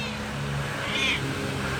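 A neighborhood cat gives a single brief meow outdoors on an evening walk, fairly faint against steady background noise.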